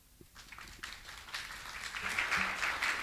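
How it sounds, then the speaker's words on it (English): Audience applause at the Nano Thailand 2025 conference welcoming a speaker, starting sparse and faint, then building into steady clapping from a seated crowd. "Big loud applause to welcome her, please."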